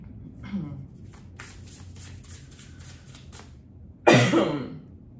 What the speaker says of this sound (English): I always cough so much whenever I burn incense